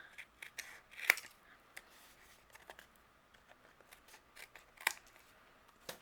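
Scissors trim excess paper for a handmade greeting card in a quiet room, with two crisp snips standing out among faint paper rustles and small handling taps, close and soft.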